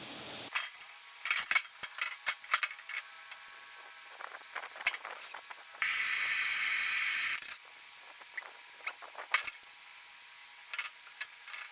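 Heat gun or torch warming a heat-shrink sleeve on a fuel tank supply line during a '64 Ford F100 EFI tank install, a steady hiss for over a second amid scattered clicks and handling noises.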